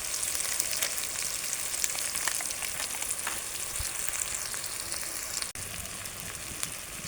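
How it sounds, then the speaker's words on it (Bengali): Chicken roast spice paste of tomato sauce, green chilies and chili powder frying in oil with about 1.5 to 2 kg of meat, a steady, close, dense sizzle and crackle that runs without a break, with one brief dropout near the end. "মশলাটা সুন্দর করে ভুনে নিয়েছি এবং মশলা থেকে তেল ছেড়ে দিয়েছে।"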